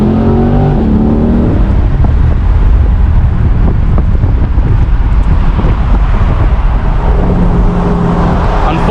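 A 2020 C8 Corvette accelerates hard on a highway, a loud rising engine roar heard from the cabin and heavily mixed with rushing wind buffeting and road noise throughout.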